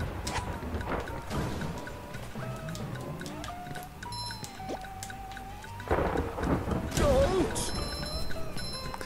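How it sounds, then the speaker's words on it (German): Storm effects from a Thunder Tiki in a SpongeBob video game: a low rumbling storm with rain-like hiss and ticking, then a loud crash of thunder near the end among layered game sounds. "Wenn Patrick ihn berührt, zieht ein Sturm auf und nach ein paar Sekunden kracht es"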